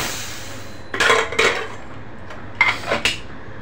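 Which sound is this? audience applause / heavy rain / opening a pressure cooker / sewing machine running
opening a pressure cooker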